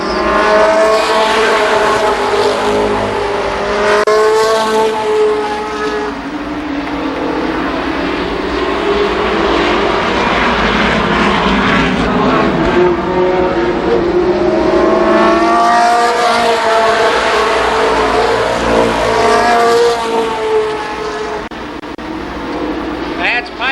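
Late model race cars roar through a heat race at Columbus Motor Speedway in 1993, a loud, continuous engine drone rising and falling as the cars pass. An announcer talks over it the whole time.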